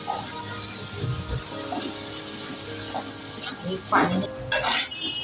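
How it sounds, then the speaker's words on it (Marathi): Rice sautéed in a pan for an upvas fasting thali makes a steady sizzle, with scraping stirs and a few clinks of utensil on pan close by. "तांदूळ घालायचे आहेत आणि हे ना छान परतवून घ्यायचे आहे"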